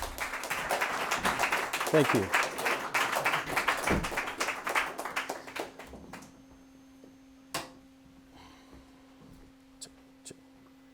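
An audience at a live evening event for a musician breaks into dense, loud applause. The clapping runs for about six seconds, then thins out to scattered claps and fades as a voice speaks briefly.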